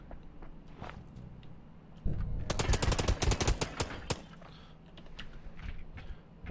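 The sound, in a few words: Tommy gun firing in the video game Blacktrace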